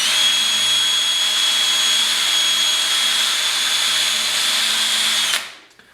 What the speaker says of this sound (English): you gotta make sure that you're drilling straight